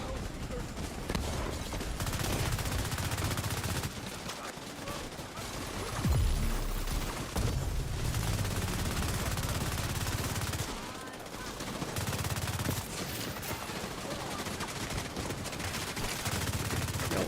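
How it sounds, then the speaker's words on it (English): Sustained automatic weapon fire in The Division 2, loud continuous bursts with brief pauses, long stretches of rattling shots blending into a thick, close wall of sound. "Yo, stop shooting me, man."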